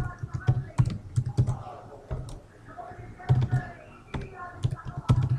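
Rapid, uneven clatter of keys on a computer keyboard while Java code is typed, close and crisp in bursts with short pauses, and a voice speaking over parts of it.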